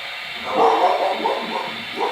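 A dog barks and yips a few times at a moderate distance, short bursts over a faint steady background hum.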